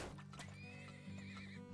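A horse in the oil-drilling game Turmoil neighs in a high, wavering whinny over a brief clip-clop of hooves, heard close and clear with no voices.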